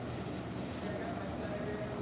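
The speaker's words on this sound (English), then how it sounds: "actually spray it like down into the trash can and spray the brush" Spray paint hissing from a can onto a paintbrush held over a trash can, a steady continuous hiss lasting about two seconds with a low background rumble.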